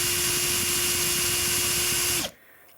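A power drill spins at steady high speed with a constant whine, then winds down and stops abruptly near the end, leaving near silence.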